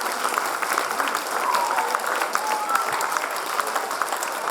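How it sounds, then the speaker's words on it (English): A crowd applauds steadily throughout at a festival session in Chennai, dense continuous clapping with faint voices mixed in, sounding like a full room. "I think we should all get up and clap for her."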